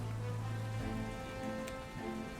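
Steady rain patters on a surface as a background sound effect during a Dungeons & Dragons Tyranny of Dragons tabletop session, a soft continuous hiss with a low hum underneath and no voices.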